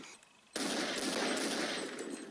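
Automatic gunfire in the video game Counter-Strike 1.6, one continuous rapid burst that starts abruptly and holds steady for a couple of seconds at moderate level, with no talking.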